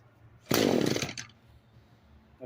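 An Echo SRM-225 string trimmer engine catches after a rope pull and bursts into a loud, buzzing two-stroke rev for about half a second, then sputters and drops away to quiet.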